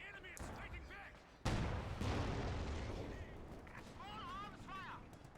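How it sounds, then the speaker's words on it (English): Mortar fire in a Company of Heroes battle lands as a sudden heavy boom followed by a rumbling decay, with faint battlefield noise and voices talking before and after. "it's the mortar, of course"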